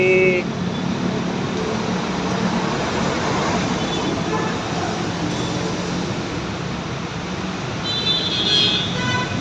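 A tricycle weaves through dense traffic on the road between A. Bonifacio and C3, with a steady loud roar of vehicles and a horn toot at the start and another near the end.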